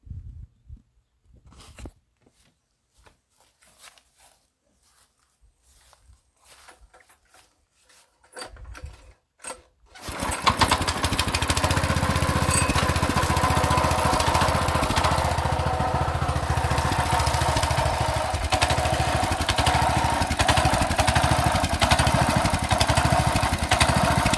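A walk-behind tractor's small engine fires up after some quiet handling noises, then runs loud and close with an unstable hunting idle, its revs rising and falling in slow surges, with no voices.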